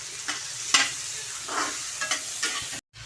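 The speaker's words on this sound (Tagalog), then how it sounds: "So ginasta na natin yung bawang, sibuyas, saka yung miso, saka luya" Garlic, onion, miso and ginger sizzle in a pan for milkfish sinigang, with quick stirring scrapes over a steady fry that stops abruptly near the end.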